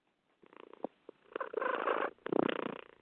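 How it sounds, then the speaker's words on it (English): A pet cat named Patchy purrs close into a phone, a rhythmic rumbling that swells louder in two long bursts after a few softer pulses, band-limited like a phone line. "she's purring into the phone"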